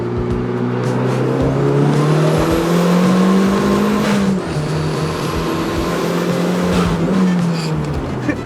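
A turbocharged Mazda Miata engine revs hard and loud close by, its pitch climbing and falling through several pulls with a steady throaty drone and turbo whine, no talking.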